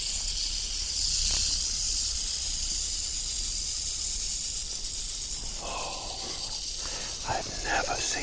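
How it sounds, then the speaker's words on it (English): A rattlesnake, a roughly four-foot snake half inside a tube at a den, rattles its tail in a continuous dry buzzing hiss, with quiet background sounds and some bursts of noise later on. "Almost on cue, Smog starts to rattle."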